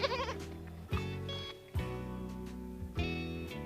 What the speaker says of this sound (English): Perhaps goats weren't such a good idea after all.